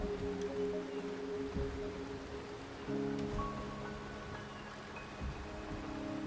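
Steady rain falls in a game world, an even hiss of drops on surfaces with faint tonal hums beneath, continuous and moderately loud.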